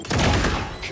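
Gunshots in a competitive first-person shooter round, a quick rattling burst of several shots in under a second, loud and close.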